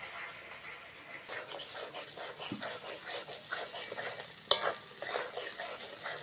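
Chilli paste masala for a fish curry being stirred and sautéed in a pan, a steady scraping and stirring rhythm over a soft sizzle, with one sharp clack midway.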